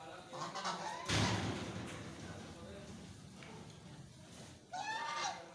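Ducks eating green fodder on a goat and dairy farm give short fowl-like calls scattered through the clip, mixed with other farmyard noise under steady talking.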